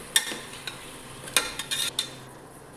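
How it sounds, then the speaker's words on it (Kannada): Ginger garlic paste stirred in a hot pan, with a spoon scraping in short bursts over a faint sizzle, close and fairly quiet, with no talking. "ಶುಂಠಿ ಬೆಳ್ಳುಳ್ಳಿ ಪೇಸ್ಟ್ ಹಾಕೊತಾ ಇದ್ದೀನಿ ಹಾಕೊಂಡು ಇದಕ್ಕೆ ಚೆನ್ನಾಗಿ ಮಿಕ್ಸ್ ಮಾಡ್ತಾ ಇದ್ದೀನಿ"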